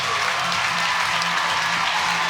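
A crowd at a show jumping event, the Longines Global Champions Tour in Rome, cheers and applauds in a loud, steady roar of clapping and shouting that fills the whole stretch without letting up.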